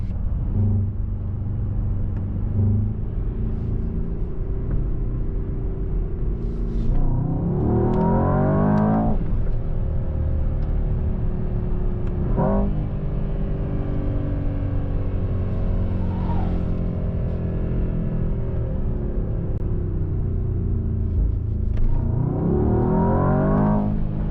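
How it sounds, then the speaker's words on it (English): A 2025 Mercedes-AMG S63 E Performance sedan revs up through several gears, each shift followed by a low crackling exhaust burble, loud and continuous with no voices. "With each shift you hear the burble in the background."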